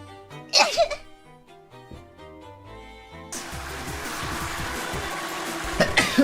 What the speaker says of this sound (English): Finally, I sneezed.